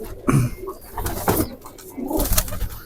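Khatang pigeons cooing close by in a few soft, low, throaty bursts with short pauses between, alongside some rustling and faint background noise.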